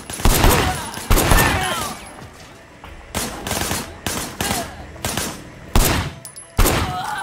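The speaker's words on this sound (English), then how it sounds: "Shooting at the guys over there." Gunfire in the video game Sleeping Dogs, a series of loud, sharp shots and short bursts spaced unevenly across several seconds, with quieter game ambience in the gaps.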